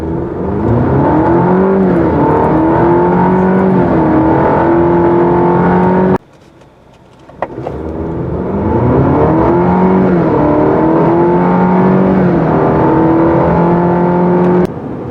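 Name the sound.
Cadillac CT4 2.7L turbo accelerating 0 to 60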